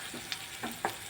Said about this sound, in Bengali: কাঁচা লঙ্কাটা দিয়ে একটু নাড়তে হবে